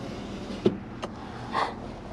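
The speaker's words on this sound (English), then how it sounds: "by pressing that button, I didn't know this vehicle had a power sliding rear window" In a 2011 Ford F-150 SuperCrew Harley-Davidson 4x4, the power sliding rear window gives a quiet click, a second soft click, then a brief motor whir, heard close and alone.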